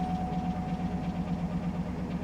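A Mitsubishi Outlander engine idles roughly at a steady low rumble, close and moderately quiet, with no speech over it.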